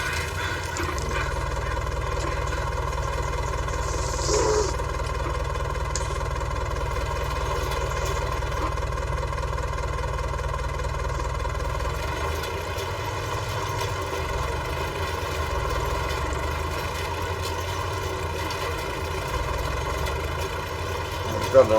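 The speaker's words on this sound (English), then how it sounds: "Go direct behind the tractor for the last few minutes of today's drilling." Tractor drilling winter wheat in 1965 runs a steady, close, droning engine note throughout, with a slight shift in tone about halfway through.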